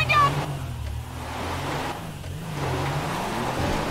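A car engine from Grand Theft Auto 5 drones and revs steadily as the vehicle drives, a low rumble rising and falling, with brief whooshes passing over it.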